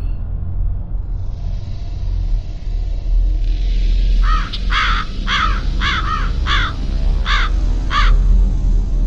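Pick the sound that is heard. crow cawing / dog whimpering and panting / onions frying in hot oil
crow cawing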